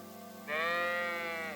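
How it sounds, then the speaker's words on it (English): A single drawn-out sheep bleat from a flock in the medieval farmland of Kingdom Come: Deliverance II, loud and close, rising clearly over a quiet ambient bed for about a second. "stare at the sheep"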